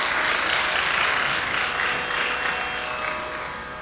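Audience applauds after a Bharatanatyam Pushpanjali dance at an arangetram, steady dense clapping from a crowd that gradually fades.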